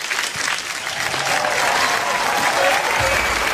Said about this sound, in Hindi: उदित सर के लिए जोरदार तालियां।